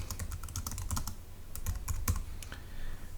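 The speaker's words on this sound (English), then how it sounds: "So we can type some text in here," Text typed on a computer keyboard: a quick, uneven run of soft, close key clicks, fairly quiet, with no talk.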